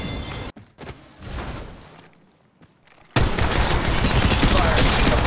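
Rapid bursts of gunfire in the mobile shooter Apex Legends Mobile, a loud dense volley after a quieter stretch of scattered shots, close and continuous to the end.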